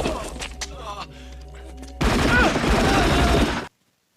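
Rapid gunfire erupts in a scene from the action film Hard Target, a dense, loud volley lasting under two seconds after quieter dialogue and music, then cutting to silence.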